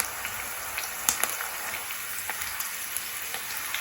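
Onions frying in a pan for chicken curry, a soft steady sizzle with small crackles and pops, close and moderately quiet, no talking.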